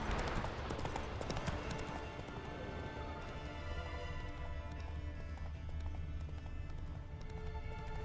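Roach, a horse in The Witcher 3 video game, gallops with a steady run of hoof clip-clops, fairly close and continuous throughout over a background game ambience.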